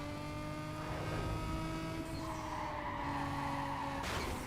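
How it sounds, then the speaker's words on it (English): Lamborghinis chase a Nissan 350Z in the racing game Need for Speed Carbon, with steady engine drone and shifting revs from the cars, a continuous mix that holds at moderate level throughout. "Stuff like Lamborghinis chasing."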